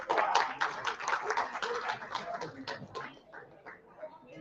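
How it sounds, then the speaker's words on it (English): A room of guests at a school auction claps, a fairly faint scatter of hand claps that slowly thins out, with some voices mixed in. "I want all of you to give yourself a round of applause."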